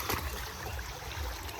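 Fast-flowing clear stream water rushes steadily on a trek toward a waterfall near Bhangarh, a close, continuous broadband gush with low gurgling.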